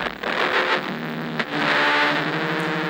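A synthesized beat made in Beatsurfing runs through heavy distortion from Aberrant DSP Cataclysm, giving a loud, harsh, noisy wash with a couple of sharp hits, no voices.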